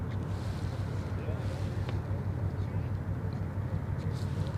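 The container ship CMA CGM Jacques Saade gives off a deep, continuous engine rumble heard from the shore, steady and low under wind noise, with faint voices in the background.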